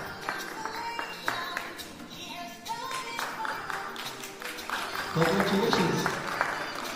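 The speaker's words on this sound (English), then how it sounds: "Let's continue clapping for them." Audience at a graduation ceremony claps for graduates, a scattered, moderate patter of applause running under a voice talking over a loudspeaker.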